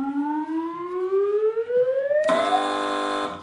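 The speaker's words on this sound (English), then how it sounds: "Fingers on buzzers, teams." On a TV panel quiz show, a rising siren-like sweep climbs steadily, then a loud, harmonically rich buzzer cuts in and holds to the end, with no talking.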